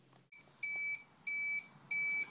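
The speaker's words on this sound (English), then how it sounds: "that beeping sound you hear means that I went ahead and I preset the" A heat press machine sounds its temperature alarm after being preset to 385, three clear, loud electronic beeps of equal length spaced evenly about half a second apart, close by in a quiet workspace.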